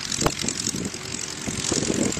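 Small propeller planes at an airfield drone on as a steady, broad engine and airscrew roar, moderately loud, with a few thumps and knocks over the continuous hum.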